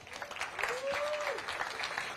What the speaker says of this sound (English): let's give a big round of applause for everyone in the 2024 Longboard Tour